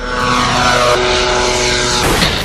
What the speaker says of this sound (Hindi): पहला ड्रोन है अबाबिल 3 जो रनवे से टेक ऑफ करता है।